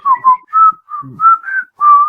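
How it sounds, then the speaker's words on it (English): A person whistles a short tune of about six clear, close notes, bright and loud, with small breathy sounds between them. "I apologize for whistling."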